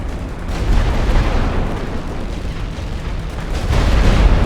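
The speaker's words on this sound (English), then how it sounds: "Start the barrage." A sustained artillery barrage in a WWI-era video game, with a loud, continuous rumble of overlapping explosions and booms that swells slightly toward the end, and no talking.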